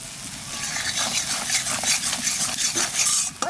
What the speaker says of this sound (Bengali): মশলাটা ভালো করে ভেজে নিয়েছি